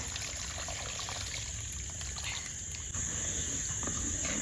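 Dissolved tamarind water pours into a clay pot of fish curry, a soft continuous trickling and splashing that holds steady throughout, close and fairly quiet with no talking.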